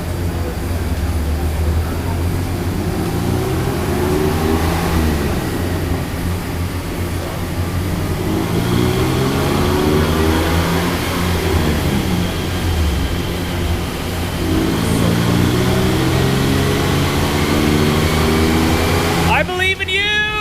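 A stock BMW E46 with the M52TU inline-six, strapped down on a chassis dyno, revs hard in repeated rising and falling sweeps. The engine is loud and close, and people talk over it.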